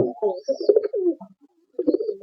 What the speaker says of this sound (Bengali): এটা মাদি পায়রা আছে রৌদা পায়রা